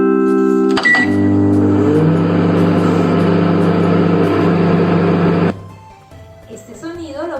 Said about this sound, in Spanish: Es un horno microondas.